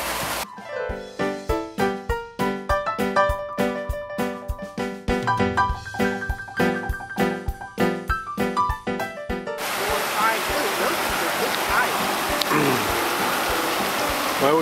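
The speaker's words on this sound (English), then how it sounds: "We come across this little creek" A small creek at Moose Pass, Alaska, where salmon spawn, gives a steady broadband rush of flowing water that takes over in the last five seconds, after a stretch of people talking over other louder sound.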